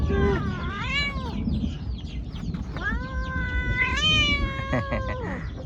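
A pregnant mother cat meows repeatedly, loud and near, with several drawn-out meows separated by short pauses over a steady background hiss.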